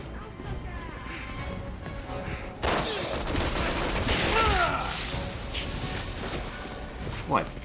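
Gunfire in Resident Evil 6 crackles through a busy game soundscape, with several close bangs and a sustained burst of shots mixed with impacts and someone talking over it.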